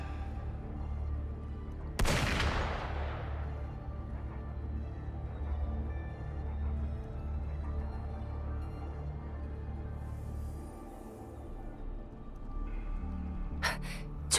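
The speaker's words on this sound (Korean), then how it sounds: "총소리." A single sharp gunshot in the video game Wuthering Waves rings out once against a steady low rumbling backdrop, its echo fading over a second or two, with faint clicks later.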